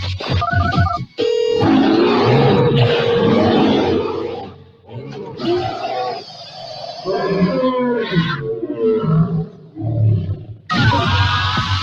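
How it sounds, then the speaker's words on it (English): A dinosaur roar sound effect played on an AM morning radio show: a long series of loud, harsh, growling roars lasting several seconds, alone without talk, ending on a sharp burst. "When you hear the dino roar"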